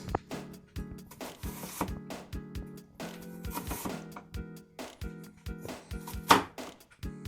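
A kitchen knife chops onion on a cutting board in a steady run of close, crisp knocks with short pauses, heard alone without talk.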